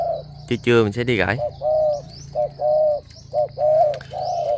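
Wild-caught spotted dove gives a series of clear, close cooing phrases in a steady rhythm, with someone speaking briefly at the start.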